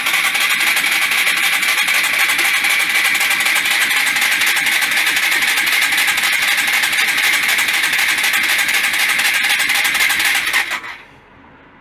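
An oil-starved Yamaha SR125 motorcycle engine cranks over continuously with a buzzing, rattling whir for about ten seconds, then stops abruptly.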